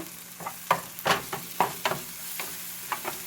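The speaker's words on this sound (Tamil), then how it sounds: "இப்போ இந்த இஞ்சி பூண்டு பேஸ்ட்டு வந்து போட்டு வதக்கிக்கோங்க" Ginger garlic paste sautés in a pan over softened tomatoes for a crab fry, a low sizzle under a string of close spatula scrapes and stirs, irregular and fairly quiet, with no talking.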